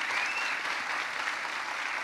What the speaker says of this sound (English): let's give these guys a round of applause for the contribution they've made to the gaming industry with Crash